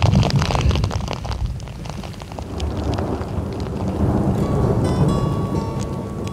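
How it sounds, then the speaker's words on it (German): Steady rain and hail pour down with low rumbling thunder rolling underneath, a dense wash of noise throughout; a faint high tone enters near the end. "Jetzt war noch Gewitter."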